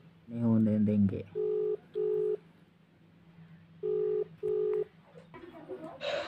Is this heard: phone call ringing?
yes